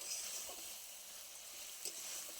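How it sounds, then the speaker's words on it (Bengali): Fried prawns go into a pot of boiling curry, giving a steady soft hiss of sizzling and bubbling with a couple of faint stirring clinks, quiet and continuous. "ভেজে রাখা চিংড়ি মাছগুলো আমি দিয়ে দিচ্ছি।"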